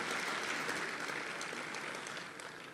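An audience at an Urdu poetry gathering breaks into sustained applause to welcome the poet Tahir Faraz, a broad even wash of clapping that thins slightly toward the end.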